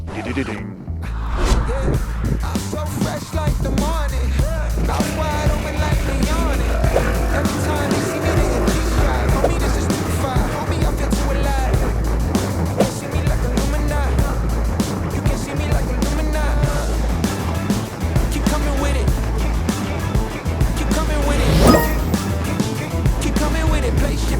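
A Honda ADV 350 motor scooter engine drones continuously while riding over rough off-road ground, with steady wind rumble and bumpy mechanical rattling.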